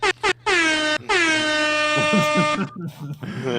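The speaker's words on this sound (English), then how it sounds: "Cue that air horn, Jonathan." A loud, sustained air horn blast with a rich stack of harmonics, briefly stuttering at the start, then fading into chatter.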